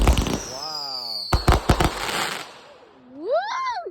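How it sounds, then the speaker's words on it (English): Small fireworks go off in a quick burst of sharp cracks and pops alongside whistling tones, with excited voices talking and exclaiming over them. "Like the smaller fireworks."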